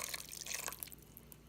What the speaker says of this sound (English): I'm going to add some pasta water that I reserved from my pasta